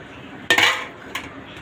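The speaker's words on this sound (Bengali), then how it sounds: "কাঁচা দাও ডেক্সির মধ্যে, কাঁচা দাও" Raw food dropped into a metal cooking pot during a barbecue, giving a sharp clattering clang followed by a smaller metallic knock, close by.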